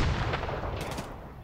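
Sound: explosions and gunfire in Tarkov Arena video game

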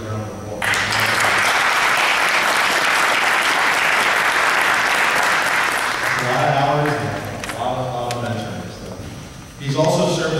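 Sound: applause

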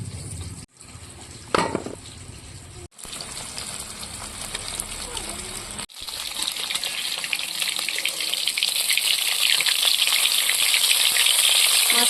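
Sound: frying sarputi fish in a pan

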